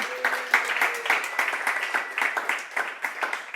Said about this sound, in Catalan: A tots ells també aplaudiment fortíssim.